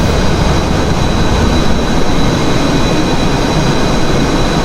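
An F/A-18E jet engine roars in afterburner in a flight simulator, a dense, loud, unbroken rushing roar with a faint steady whine on top, no voices over it.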